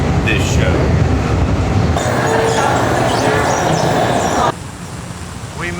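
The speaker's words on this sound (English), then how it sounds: "we are riding this train in Washington, D.C. into town to the Kennedy Center" Loud, steady rumble and rattle from inside a moving Washington, D.C. metro train car, with a sudden shift in tone near the end as the ride continues.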